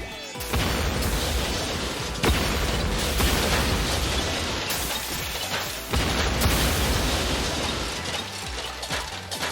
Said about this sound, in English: you just have, like, 10 or 12 explosion sounds all play at once.